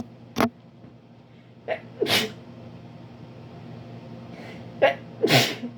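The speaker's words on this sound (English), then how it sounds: "I'm going to sneeze." Two close sneezes, each preceded by a short sharp inhale, with quiet stretches between them.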